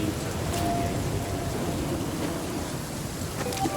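Steady rainfall in the survival game Flame in the Flood, a dense, even hiss of drops on surfaces with a low rumble beneath, continuous and fairly close throughout.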